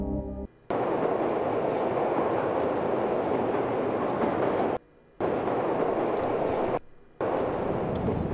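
A maintenance transport tunnel vehicle in the video game Journeyman Project Pegasus departs with a loud, steady rushing rumble like a rail car, broken by two abrupt brief cuts to silence.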